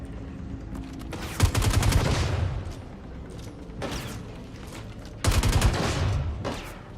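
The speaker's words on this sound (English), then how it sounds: "Who's shooting at us?" Bursts of rapid automatic gunfire in the video game Star Citizen, heard in two loud volleys with quieter scattered shots and ambient hum between them.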